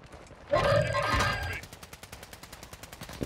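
Gunfire in a Warzone match: a loud, heavy opening burst, then a fast run of rapid shots that sound fainter and farther off.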